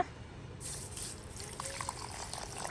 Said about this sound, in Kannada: ಸ್ವಲ್ಪ ನೀರನ್ನು ಹಾಕಿ ತೊಳೆದ್ರೆ ಆಯ್ತು.